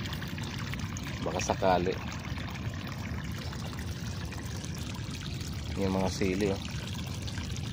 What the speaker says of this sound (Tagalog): Lalagyan ko pa rin ng tubig